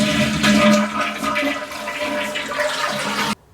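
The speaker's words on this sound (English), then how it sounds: "you're going to need to flush the toilet about 3 times and get as much water out of this tank" A toilet flushes to drain its tank, a loud close rushing swirl of water that holds steady for about three seconds before cutting off abruptly into near silence.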